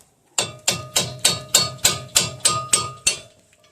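A hammer strikes a chisel to pop out the rubber brake pin boots on the caliper bracket of a 1998 Toyota Camry, ten sharp metallic blows in an even rhythm, loud and close with no talking.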